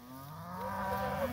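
Cattle in a paddock moo, one long low call that rises and swells, fairly close and clear, with no talking.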